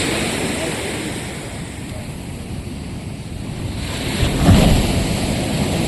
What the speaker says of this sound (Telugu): Vizag RK beach